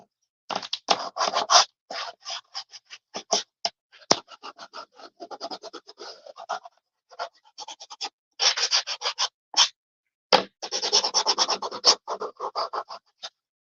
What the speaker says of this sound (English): I love these little gator sanders. I'm using 120 grit sandpaper. All right, so we're just going to go around the edges.